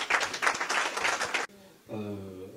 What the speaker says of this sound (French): je vous demande d'applaudir pour vous-même, pour l'engagement.